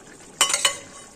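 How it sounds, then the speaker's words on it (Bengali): Fried catla fish pieces dropped into a simmering potato and ridge gourd curry, a brief pair of splashing, clattering impacts followed by a soft fading sizzle. "এখন এই সময় ভেজে রাখা এই যে কাতলা মাছের পিসগুলো এখন দিয়ে দিব দেখুন"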